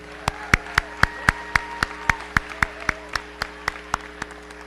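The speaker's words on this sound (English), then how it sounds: "Can we give one more big round of applause to all of our Defino kiddos today?" Applause for schoolchildren after a performance at a Marlboro Township public school event, heard as a thin run of distinct, evenly spaced claps from a few people rather than a full crowd, steady for several seconds against a constant electrical hum.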